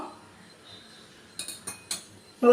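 A spoon clinks a few times against a metal pot while stirring rasam, soft and close in a quiet room.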